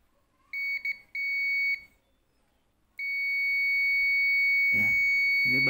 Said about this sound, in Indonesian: Ini buzzer ya, utamanya ini.